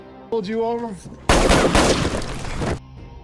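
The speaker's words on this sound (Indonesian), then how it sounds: "pelaku langsung menembaknya" A burst of gunfire erupts after a brief voice, a dense crackling blast lasting over a second, loud and close, then fading to quiet.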